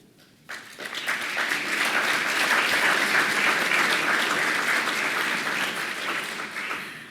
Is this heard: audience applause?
yes